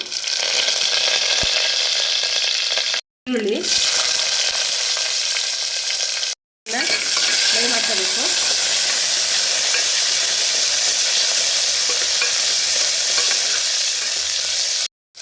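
Mustard seeds and curry leaves crackle and sizzle in a small amount of hot oil as tempering for horse gram sambar, a loud continuous hiss with brief pauses and faint stirring.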